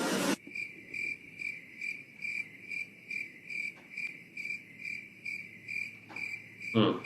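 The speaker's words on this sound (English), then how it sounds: "Crickets." Crickets chirp in a steady, regular rhythm, roughly ten evenly spaced pulses, with nothing else heard.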